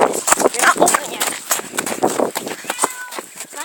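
A cat meows among bustling movement and scuffling footsteps, with people talking loudly over it throughout.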